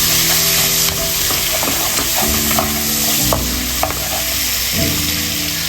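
Tomato stirred into rava upma frying in a pan: steady sizzling with repeated scraping stirs of the spoon, close and fairly loud, no talking.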